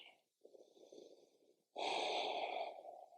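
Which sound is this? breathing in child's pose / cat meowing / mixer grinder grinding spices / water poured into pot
breathing in child's pose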